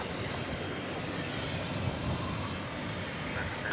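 Airliner jet engine roaring steadily on the flight to Denver at Dallas/Fort Worth, a continuous broadband rumble that holds at an even level throughout with no speech.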